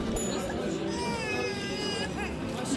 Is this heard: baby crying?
yes